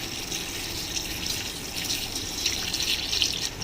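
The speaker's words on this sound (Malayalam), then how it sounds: "ഇതിലേക്ക് ഉരുക്കിയ ശർക്കര ഒഴിച്ചു കൊടുക്കാം." Melted, strained jaggery pours in a steady, close liquid stream onto chopped bananas in a vessel used for making Pesaha appam and paal, with no talking.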